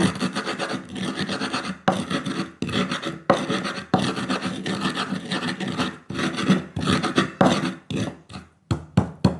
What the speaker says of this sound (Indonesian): ini bumbunya aku haluskan ya teman-teman